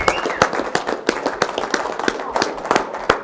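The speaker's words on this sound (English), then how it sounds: "Let's put a give a round of applause applause. for everybody" A small audience at a dance competition heat claps after the performances, sparse and uneven with distinct sharp individual claps rather than a full wash, fairly close and lasting a few seconds.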